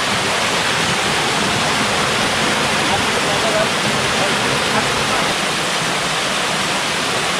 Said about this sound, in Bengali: পরিষ্কার লতা ঝর্ণা এটা।